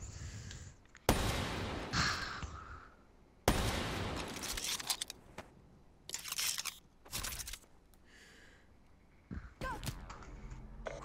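Video game gunfire: sharp broadband shots and short bursts at irregular intervals, loud and close, separated by brief quieter gaps.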